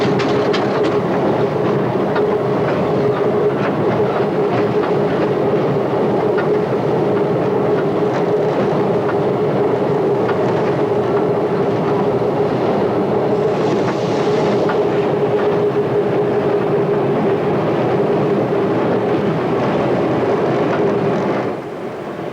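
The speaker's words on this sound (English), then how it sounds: "Running into Elm Park Station, it's easy to imagine the surprise of unsuspecting passengers as our curious train comes into view." London Underground battery locomotive train running into Elm Park Station on the District Line near Upminster in 1990, a loud, steady rumbling roar of wheels and motors with faint rhythmic clicking, sustained for the whole stretch.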